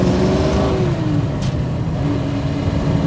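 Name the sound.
1967 Ford Mustang 347ci V8 accelerating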